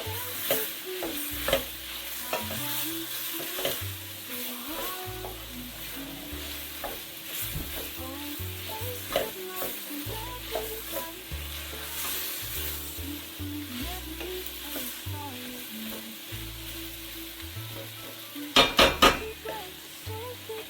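Spices frying in oil in a pot for a Mediterranean seafood stew, a steady close sizzle under repeated scraping and stirring of a utensil against the pot, with a few clinks near the end and no talking.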